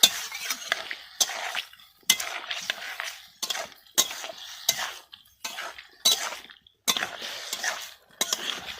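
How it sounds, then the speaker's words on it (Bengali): A spoon scrapes and stirs cashew paneer curry with potatoes in a pan, producing repeated rhythmic bursts of metallic clinks and scraping close by, with a soft sizzle between strokes. "ভালো করে নাড়াচাড়া করে নিচ্ছি।"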